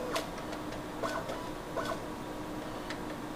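A GCMS autosampler syringe moving during an acetonitrile wash, several faint mechanical ticks and short whirring clicks at irregular intervals over a low steady instrument hum.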